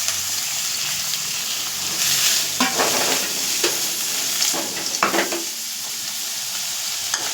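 Onion, tomatoes, green chilies and curry leaves fry in oil in a pan, a continuous close sizzle broken by a few scraping stirs, with no talking.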